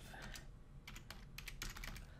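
A name is typed on a computer keyboard in quick, light, uneven keystrokes, close and faint, with no talking over them.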